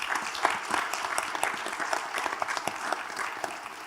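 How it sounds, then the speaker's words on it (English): An audience at a mental health panel discussion applauds the presenters, a moderately distant, even spread of clapping with scattered sharper claps, sustained for several seconds. "Let's give our presenters a round of applause."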